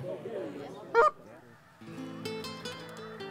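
A single goose honks loudly, then a chorus of honking geese follows at a steady distance.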